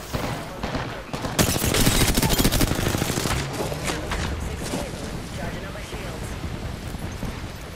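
Heavy automatic gunfire from an enemy squad in a video game battle royale, dense overlapping bursts peaking early then continuing steadily, loud and close, with voices talking over the shooting.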